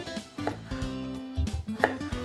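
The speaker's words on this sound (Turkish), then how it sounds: "Sıra geldi patatesi ve havucu doğramaya." A knife chops potatoes and carrots into cubes rapidly on a cutting board, quick uneven knocks in short bursts with a faint clatter between strokes.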